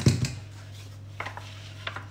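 A metal cake mould for a swiss roll is picked up and set down, a sharp clattering knock at the start followed by a few faint light taps against a quiet background hum.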